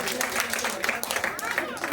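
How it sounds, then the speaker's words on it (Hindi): An audience claps at a shayari poetry recital, a dense steady patter of applause from a crowded hall lasting a couple of seconds with a voice faintly underneath. "एक बार और तालियां जज्बात के साथ"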